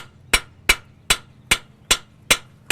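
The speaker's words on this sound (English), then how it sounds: "This hammer burnishes it as well as" A hammer strikes a metal tool edge to burnish it, seven sharp ringing blows at an even, steady pace, close and loud, with no voice.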